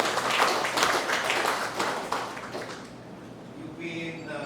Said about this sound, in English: everyone deserves a round of applause for the very